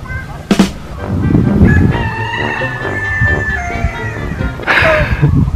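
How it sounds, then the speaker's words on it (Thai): A rooster crows outdoors near a hotel in Khao Yai, loud and close, with one drawn-out call over background chatter and ambient noise. "ไก่ร้องอ่ะ"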